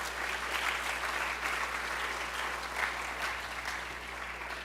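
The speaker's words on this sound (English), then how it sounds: "Please give him a round of applause." An audience at a university math fair gives a sustained round of applause, a dense, even wash of clapping holding steady with a low hum in the background.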